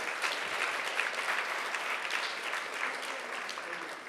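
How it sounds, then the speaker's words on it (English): Audience applause at a CreativeMornings New York talk, a steady, dense patter of many hands clapping for about four seconds, moderately loud and even throughout. "Can we give one more round of applause"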